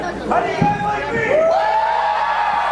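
A pro wrestling show crowd roars and whoops, with raised voices and shouts swelling over a steady background of cheering.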